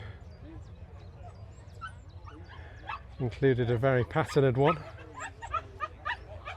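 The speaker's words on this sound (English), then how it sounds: "Oh, the dogs are excited." Excited dogs whimper and yip in a short, overlapping burst at an outdoor classic car show, louder in the middle then trailing into quieter yelps, with people talking nearby.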